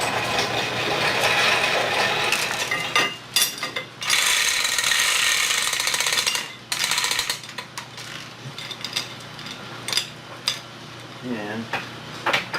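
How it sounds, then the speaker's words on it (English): A shop hoist being swung into place over an engine, heard as loud metallic clanking and ratcheting bursts with scraping and rattles, near and irregular, broken by short pauses. "bring the hoist over"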